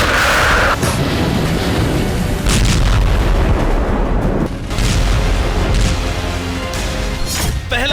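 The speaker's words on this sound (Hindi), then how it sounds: "पहला हमला, रेलवे ट्रैक पर धमाका, ब्रियांस्क में पलटी ट्रेन।" Explosion on a railway track in the Bryansk region: heavy rumbling booms and roaring blast noise fill the scene, loud and dense, with several sharp surges and no speech.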